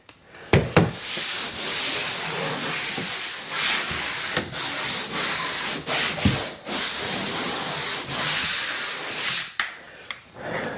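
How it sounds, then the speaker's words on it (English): Power sander grinding across an interior house wall during preparation for painting, a steady loud rasping hiss that runs almost continuously, broken by brief dips and bumps as the pad shifts position. "you just sand the place down smooth as ever"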